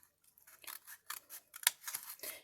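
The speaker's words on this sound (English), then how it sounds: "That way I can get my scissors in there." Scissors snip repeatedly through material during a craft project for a tool caddy and trash can, a series of close, crisp cuts of uneven rhythm in a quiet room.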